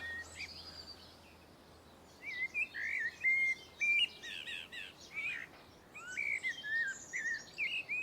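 Several birds sing and chirp in a quiet garden, bright varied phrases coming in bursts at moderate distance over a soft background hush, with no voices.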